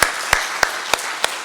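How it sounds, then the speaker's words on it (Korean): Five sharp, evenly spaced hand claps ring out at a steady beat in a church revival meeting, each one crisp and distinct with a quiet gap between. "한번 박수 여러분들 해주기 바랍니다."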